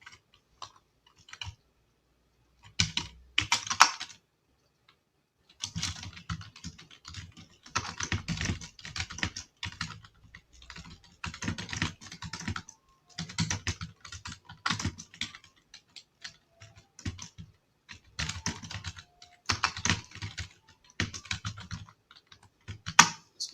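Keys clatter in bursts of fast typing on a computer keyboard while code is written for a Django blog's newsletter form, with short pauses between runs of clicking; the keystrokes are close and fairly crisp, with no talking.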